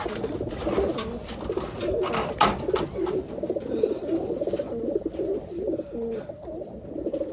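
Wantai pigeons, a medium-to-large breed, coo steadily in overlapping low throaty phrases, a dense continuous chorus close by with no talk over it.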